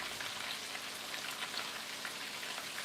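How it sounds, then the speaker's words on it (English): Oxtails searing in a pan give a faint, steady, close sizzle with fine crackling, continuous and without talk. "And once these sear up, then we will do our veggies."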